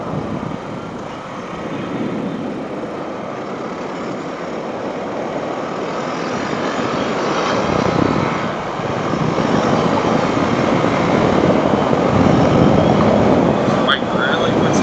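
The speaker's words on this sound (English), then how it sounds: "This bike really puts down the power nicely." A Honda CRF 450RL dirt bike engine drones steadily while riding a gravel road, a broad continuous roar mixed with wind and crunching gravel, growing slightly louder toward the end, with a rider talking over it.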